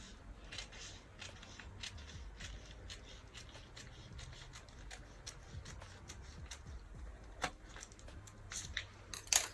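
Scissors snip through fabric while a halter top is cut out, giving quiet, repeated crisp cuts with light paper-like rustling, close and soft throughout.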